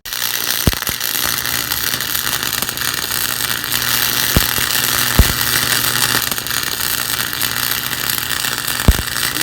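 A small homemade wood stove built from thin metal burns with a constant loud roar as it draws air up the pipe. A few sharp ticks and pops cut through now and then, and no one speaks.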